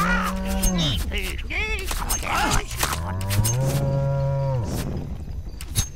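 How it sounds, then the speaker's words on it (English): Cattle in the video game Sacred let out several long, loud moos in a row, each drawn-out low call rising and falling, with brief gaps between them and no talking over them. "Moo."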